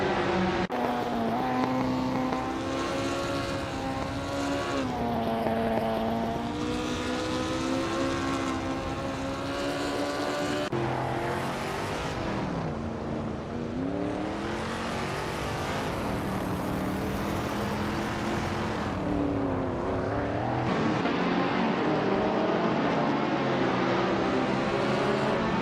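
Race cars in a racing video game, including a 1967 Nissan i38-02, drone continuously with layered engine whines shifting pitch as they accelerate and brake, loud and unbroken with no voices.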